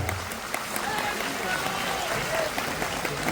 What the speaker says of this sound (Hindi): जोरदार ताली बजा के स्वागत करो।